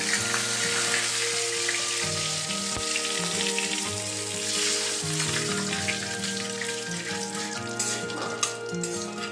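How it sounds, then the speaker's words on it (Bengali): Dried red chillies and bay leaves crackle in hot oil with cumin, a steady close sizzle with scattered pops and light stirring throughout, no voices. "দুটো শুকনো লঙ্কা, তেজপাতা ধুয়ে রাখা ছিল ফাটিয়ে দিয়েছি"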